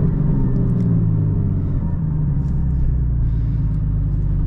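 A 2023 Porsche 718 Boxster Spyder with its 4.5-liter engine drones at a steady low rumble from inside the cabin, holding an even note throughout with no voices over it.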